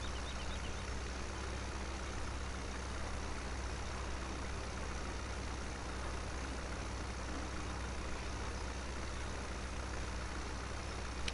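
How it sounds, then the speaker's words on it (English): A tractor engine in Farming Simulator 17 drones in a steady, continuous low rumble, constant and moderately loud throughout with no talking over it. "Oh, and this could be a struggle using this tractor."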